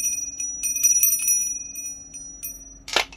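A small bell about fifty years old, restored using a samovar handle, rings once briefly near the end, with sustained high metallic tones over a low steady hum.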